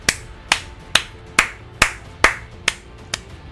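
Crisp, close hand claps in the PS4 game Attack on Titan repeat at a steady, even pace, about eight or nine in a row, each sharp with a short decay, heard alone.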